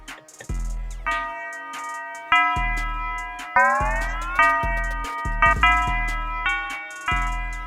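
A bell melody plays a busier pattern with pitch glides between some notes, riding over punchy bass hits in a steady beat, in the style of a hard glo rap beat.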